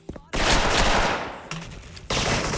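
Video game gunfire in rapid bursts, loud and close, with a short pause between two volleys and a brief murmur before the first.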